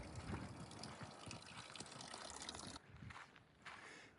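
Water gushes steadily from a public drinking fountain on a street in Milan's Chinatown, a continuous rushing spray close by that drops off partway through and then surges again.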